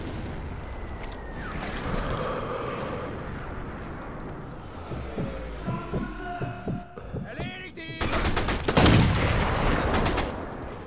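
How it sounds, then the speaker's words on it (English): Gunfire in Sniper Elite V2 during the Schöneberg convoy mission, with several sharp shots around the middle followed by a loud burst of noise near the end, over a steady low game hum. "I was going to shoot him in the nose."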